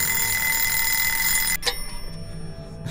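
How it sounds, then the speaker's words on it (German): An alarm clock rings loudly and continuously in the horror video game Obscuritas, then cuts off abruptly, leaving a quieter game ambience with a brief click. "Ich erschrecke mich hier vom Wecker."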